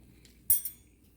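A tasting spoon hitting a pan of cooked jasmine rice: one sharp, close metallic clink followed quickly by a lighter tap, with near silence around them.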